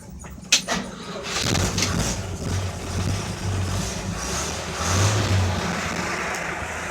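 A Chevy pickup truck, either a 1978 C10 or a 1957 model, cranks after a sharp click and catches, settling into a rough, uneven idle that swells with revving near the end; birds chirp faintly nearby.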